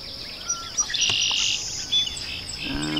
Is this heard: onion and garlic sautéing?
no